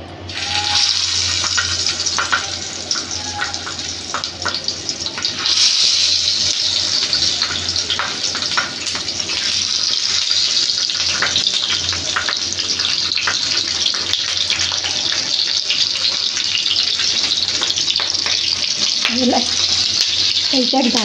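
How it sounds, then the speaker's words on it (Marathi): Green chillies frying in hot oil in a pan, a loud continuous hiss and crackle that stays dense and steady throughout, close up, with a few faint clinks near the end and no talking. "मिरची तळून घेऊया"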